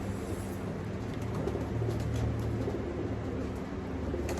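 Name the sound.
bird cooing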